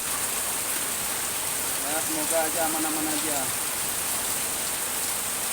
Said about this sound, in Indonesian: Sangat deras sekali teman-teman. Hujannya, anginnya juga besar sekali.